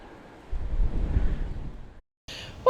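Gusty wind at an allotment buffets the microphone in a low, roaring rumble for a second or two, then cuts off abruptly before some brief, scratchy noise.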